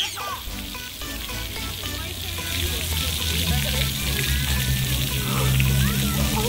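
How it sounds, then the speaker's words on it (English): Water hisses and sprays continuously from splash pad jets, growing louder partway through, with splashing and children's voices talking over it. "And then the water. Oh, it squirts out."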